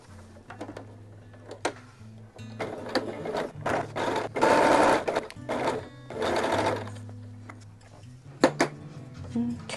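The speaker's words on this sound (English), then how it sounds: "Okay, so I'm just going to go up through here and sew it." Sewing machine stitching quilt block pieces, running in several bursts of fast mechanical whirring with short pauses and clicks between them, close and clear.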